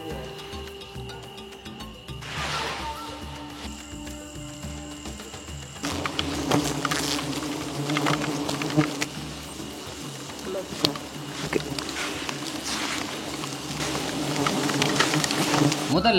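Wild honey bees swarm on a rock face during a traditional honey hunt, making a continuous buzzing drone that grows louder and busier midway through. Rustling, scraping handling noise mixes in with it.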